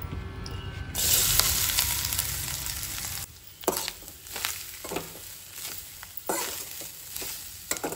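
Soy chunks frying in hot oil for a Goan khat-khate dish, a steady close sizzle with intermittent stirring scrapes and clatter, no talking.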